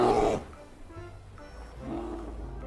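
Roar from a polar bear toy, a short loud growl at the start followed by a quieter rumbling roar a moment later.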